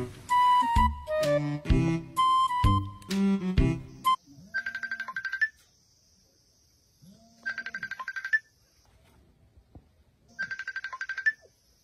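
Cellphone ringtone sounding in three separate bursts of a repeating electronic tone, after some loud music at the start, with quiet gaps between rings and no talk over it.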